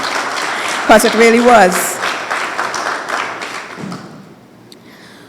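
An audience at a university award ceremony for hemispheric defense studies applauds under a speaking voice, the clapping building early and then fading out to near quiet.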